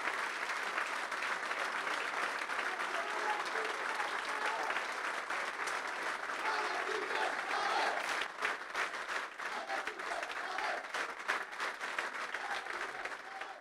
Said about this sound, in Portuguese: quero pedir aqui nesta sala uma grande, grande salva de palmas